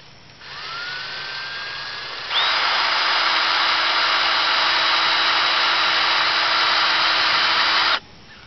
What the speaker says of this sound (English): I'm taking my cordless drill here, and I drilled one hole in to start draining